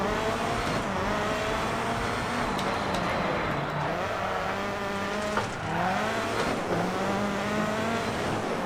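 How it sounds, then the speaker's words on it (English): Rallycross car in the video game DiRT Rally, its engine roaring steadily with pitch shifting through gear changes and tires squealing as it slides through corners, loud and continuous. "Squealing tires."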